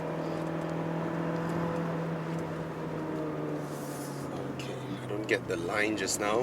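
Engine of a 1.5 litre Mazda 3 hatchback on a mountain run, a steady, moderate drone holding a constant pitch beneath someone talking throughout.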